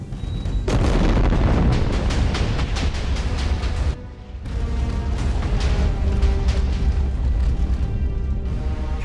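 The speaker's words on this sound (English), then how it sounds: "A massive explosion rips through the forest." A massive explosion rips through a forest in Minecraft, with a loud deep boom and crackling bursts, a brief drop, then a long rumbling roar of debris and fire continuing near and loud.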